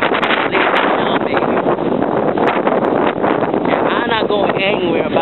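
Strong, continuous wind from Hurricane Sandy roaring and buffeting the microphone outdoors, loud and unbroken throughout, with faint voices underneath.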